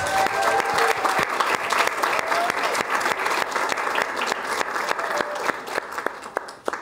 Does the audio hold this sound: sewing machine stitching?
no